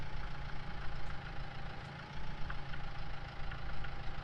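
A small tractor engine idles steadily in Farming Simulator 19, a low, rumbling, even drone with faint knocking texture, constant and close, with no talk over it.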